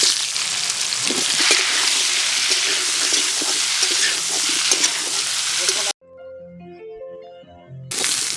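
Boiled jackfruit frying in a pan makes a loud, dense sizzle with scraping stir strokes for several seconds, then breaks off into a short stretch of soft music before the frying hiss returns.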